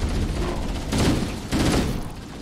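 Gunfire in the video game Halo: Combat Evolved, two dense bursts of shots over steady game background noise, fairly loud and close.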